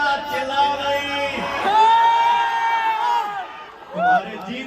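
A crowd shouts and cheers at an outdoor political rally in Aurangabad, loud sustained whooping voices swelling over several seconds, then a brief lull before another shout rises near the end.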